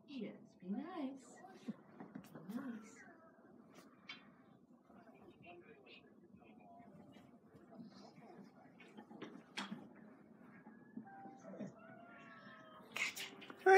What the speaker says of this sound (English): Come on. Come on, kitty.